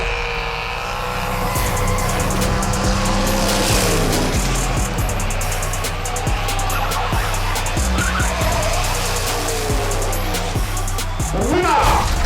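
Hot Wheels diecast cars, a Mod Rod and a military Jeep, race down a track with continuous rolling and whirring, overlaid with loud revving, skidding race-car sound effects and an announcer-style voice throughout.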